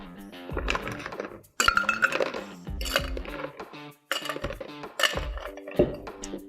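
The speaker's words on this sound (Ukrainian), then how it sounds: "І додаємо наш шейкер лід." Ice cubes tumble into a metal cocktail shaker while a Clover Club cocktail is made, giving several bursts of loud, close clinking and rattling with short pauses between scoops.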